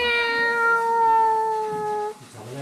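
A single long, drawn-out cat meow, loud and close, holding steady for about two seconds before cutting off into quiet room noise.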